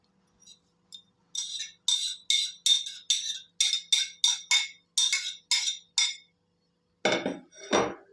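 Spoon knocking and clinking against a bowl while charred eggplant salad with walnuts is mixed, about a dozen quick close scrapes and taps in steady rhythm, then a couple of louder, fuller stirring sounds at the end, with no talking.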